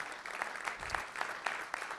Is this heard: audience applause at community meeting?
yes